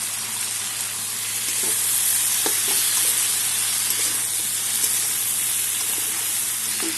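A fish head with tomato, cumin powder and chili powder sautéing in a hot pan makes a loud, continuous sizzle close by, with the occasional scrape of stirring and no talk over it.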